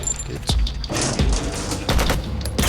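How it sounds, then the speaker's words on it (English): A video game battlefield rings with incoming mortar rounds and gunfire: repeated heavy booms and sharp cracks in an irregular, close, loud barrage that continues throughout. "we have some mortars coming in"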